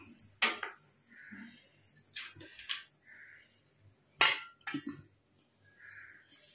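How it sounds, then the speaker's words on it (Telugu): Roasted masala being stirred into sorrel (gongura) fried rice, a spoon scraping and clinking against the pan in several short bursts with quiet pauses between them, close by, with no voices. "ఈ వేయించిన మసాలా కూడా ఇందులో కలపాలి."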